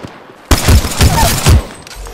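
Rapid gunfire bursts in the Apex Legends video game, a sudden volley of loud shots in quick succession with booming low thumps, close and dominant, ending abruptly.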